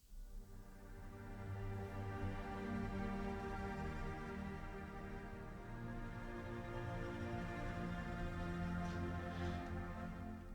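A sample-library string section plays a tremolo concertino articulation, fast bowed shimmering notes swelling into a dense sustained chord that holds evenly and fairly loud, with a spacious, roomy sound.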